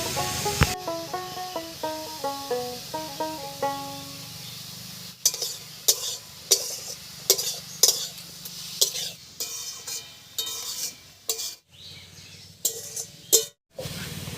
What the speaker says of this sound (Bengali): হলুদ লবণ দিয়ে একটু নাড়াচাড়া করে নিয়েছি।